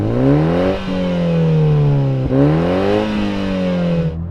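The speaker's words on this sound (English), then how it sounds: "I'm going to rev this thing up." A four-cylinder Toyota Supra engine revs hard twice up to the limiter and drops back, with a loud, close, rising and falling whine and no talking.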